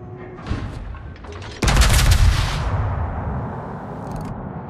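Heavy warship guns firing in World of Warships from the battleship Alaska: a few quieter shots, then a sudden loud booming salvo that rumbles and slowly fades.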